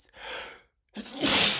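Two sneezes from someone set off by black pepper while cooking, the first a breathy burst, then a brief silence before a sharper, louder explosive sneeze, close up and alone with no talking.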